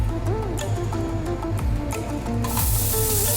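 Butter hitting a hot pan for a tadka gives a sudden loud hissing sizzle that swells and stays bright, over background music.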